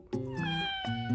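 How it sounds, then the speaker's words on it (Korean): A pet cat meows several times in quick succession, close and clear, with a short pause between calls and no talking over it. "무슨 만화에 나오는 고양이 같아."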